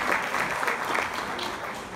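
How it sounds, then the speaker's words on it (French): Dense audience applause at an evening women entrepreneurs' awards ceremony, a full even wash of many hands clapping close and loud for a couple of seconds, with no talking on top. "Donc un applaudissement s'il vous plaît à tout ce beau monde ici présent ce soir."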